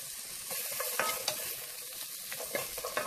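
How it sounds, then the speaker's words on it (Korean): Carrots stir-fry over medium-low heat in a spoonful of grapeseed oil with a half teaspoon of salt, giving a continuous close sizzle broken by the scrape and clatter of stirring. "당근을 중약불에 볶으시는데"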